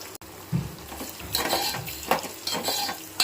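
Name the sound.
curry leaves sizzling in hot oil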